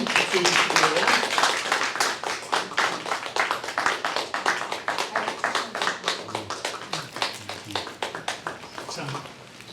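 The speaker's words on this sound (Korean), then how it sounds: "자, 모두 한번 박수 주시고요" A church congregation applauding during a Sunday baptism service, steady rhythmic clapping from many hands that is loud at first and slowly fades, with a voice speaking over it.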